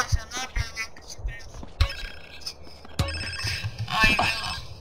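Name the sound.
telephone ringing in GTA San Andreas video game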